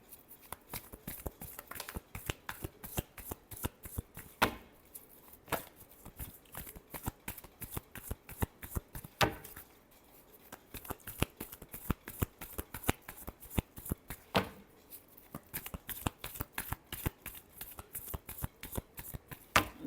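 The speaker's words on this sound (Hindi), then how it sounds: "Last shuffle." Tarot cards being shuffled by hand, a close, quiet, steady run of crisp riffling flicks with occasional sharper slaps, lasting throughout.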